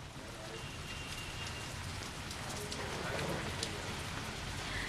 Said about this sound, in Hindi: आज राजधानी जयपुर के कई इलाकों में बारिश शुरू हो गई है